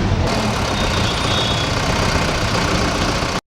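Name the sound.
Bolero car engine idling during engine decarbonizing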